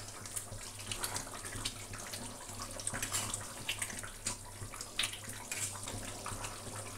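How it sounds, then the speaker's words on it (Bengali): Mutton and potato curry boils on full gas heat, giving a faint, continuous simmering bubble with scattered soft pops and no voices. "ফুল স্টিমে এটা টকবক করে ফোটাবো একটুখানি।"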